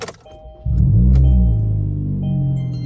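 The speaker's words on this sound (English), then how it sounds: "Let's go ahead and start the car and make sure that we installed it properly." A car being fitted with a RoarPedal throttle response controller cranks and starts. The engine catches with a loud, close rumble that settles into a steady idle.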